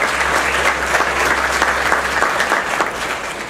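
An audience at a panel discussion on corporate social responsibility bursts into loud, sustained applause, a dense crackle of many hands at steady volume, easing slightly near the end.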